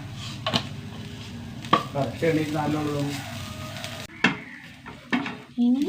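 Grated coconut sizzles softly as it is roasted brown over a low flame in a pan while a spoon scrapes and stirs; a person talks over the cooking noise.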